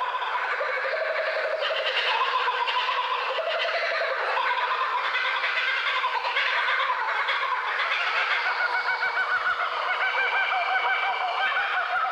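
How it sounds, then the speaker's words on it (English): A group of Australian kookaburras gives a raucous laughing territorial chorus in the bush, a dense, continuous, loud cackling of overlapping harsh calls that goes on for the full twelve seconds. "This chorus of raucous laughter from one group of kookaburras proclaims their territory to neighbouring clans."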